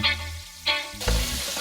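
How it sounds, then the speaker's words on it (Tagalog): Sliced pork belly and lemongrass sautéing in a pan with garlic and ginger, a close sizzle broken by a few brief scraping stirs, then a louder burst of frying as ingredients go in, no talking. "Isama sa gisa ang ginayat ng liempo at tanglad."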